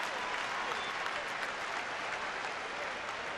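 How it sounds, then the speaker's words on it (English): A Fenway Park crowd applauds Nomar Garciaparra as he returns with the Oakland A's, a dense, steady wash of clapping and cheering from a large ballpark audience that fills the whole stretch without a break. "The crowd reacting to Nomar."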